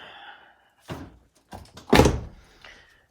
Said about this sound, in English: This door's always been really hard to shut.